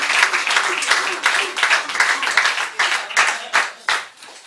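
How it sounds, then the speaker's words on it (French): Audience applause for an actor being introduced at a stage show on a boat, steady clapping from a room of people with voices mixed in, fading in short bursts toward the end. "on peut l'applaudir s'il vous plaît."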